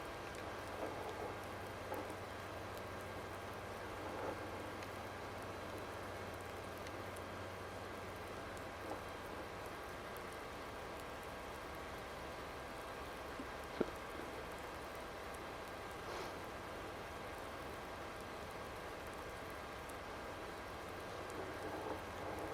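Steady rain falling in a farming video game, a continuous soft hiss throughout with one faint distant rumble of thunder.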